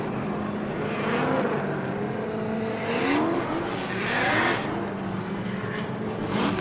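Drift car at the LS Fest West drift event sliding sideways at steep angle through an outside zone, a steady loud engine roar with shifting, wavering revs and tire noise, sustained throughout with no talk.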